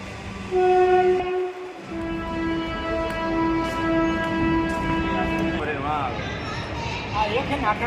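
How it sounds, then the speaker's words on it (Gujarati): A loud train horn blares near the start, then a long steady rumble of a train approaching a station platform, with squealing wheels toward the end. "એક ટ્રેન આવે છે"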